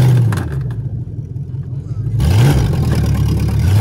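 Nissan Altima engine being put in drive during a crash-test setup, a loud low drone that dips briefly and then swells again with a rising rev, close and continuous.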